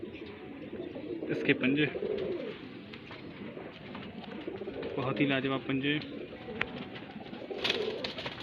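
A white pigeon with yellow eyes coos in soft, low bursts close by, the calls heard under someone talking steadily throughout.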